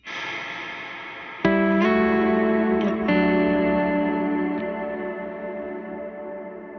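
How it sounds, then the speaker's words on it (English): Electric guitar through a big, dreamy Specular Tempest reverb, a few struck chords swelling into a lush sustained wash that lingers and slowly fades, loud and close. "I have this big old reverb from the Specular Tempest."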